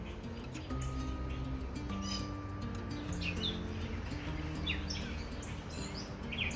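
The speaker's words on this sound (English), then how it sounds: "And I had to stop and record the birds for a minute." Birds chirp and sing outdoors in a garden where lavender and flowers are being picked, with several short calls scattered over steady low background noise.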